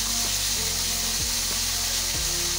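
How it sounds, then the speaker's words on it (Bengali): Potatoes frying in a pan for a pumpkin and potato vegetable dish, giving a steady, close sizzling hiss over a low, even mechanical hum throughout. "আলুটা একটু ভেজে দিয়ে দিচ্ছি"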